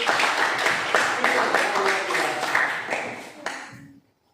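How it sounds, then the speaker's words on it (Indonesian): Classroom students in a mathematics lesson clap together, a dense burst of applause that carries loud and steady for about four seconds before cutting off. "tepuk tangan dong untuk"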